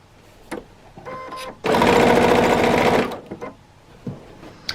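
A sewing machine quilting a jelly roll tote bag bursts into a loud, rapid stitching run lasting about a second and a half, framed by quiet fabric handling and small clicks before and after.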